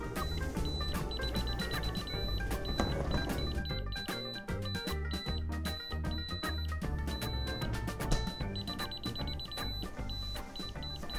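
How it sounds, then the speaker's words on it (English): A Skyzone 04X drone locator beeps inside FPV goggles, a steady run of short, high electronic beeps sounding over dense background music. "follow the beeping as it gets faster"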